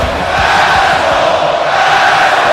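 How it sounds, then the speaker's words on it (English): A WWE 2K wrestling game crowd in an arena set in Mexico City chants loudly and continuously at a wrestler, a dense, roaring wall of voices with no pause. "What the fans are chanting at Ryan Sparxx is universal."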